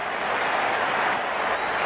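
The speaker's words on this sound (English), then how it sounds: "Hard not to get caught up in this excitement." Crowd applause fills a cricket video game stadium during a Test match, a dense steady wash of clapping and cheering that holds evenly across the moment with no voices over it.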